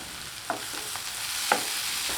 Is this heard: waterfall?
no